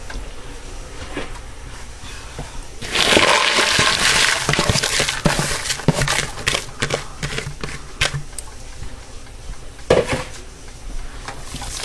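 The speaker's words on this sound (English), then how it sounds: "At this point, I'm going to add my frozen veggies in here." Frozen vegetables tumble into a pot of Brunswick stew with tomatoes, a loud rattling pour followed by clattering and stirring scrapes against the pot, with no talking.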